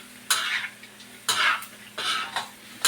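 Chicken adobo cooking in a pan with soy sauce: three separate bursts of stirring and sizzling over a low steady kitchen hum, with faint clinks of utensil against pan.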